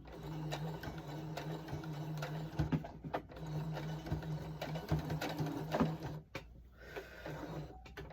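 A sewing machine runs in short bursts of rhythmic mechanical whirring and clicking, close by, with brief pauses and stops between stitching runs.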